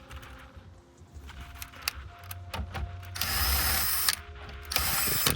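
A hand ratchet clicks rapidly while backing out T20 screws, one at each corner of a device, with bursts of close mechanical pawl clatter separated by short pauses, fairly quiet and with no talking.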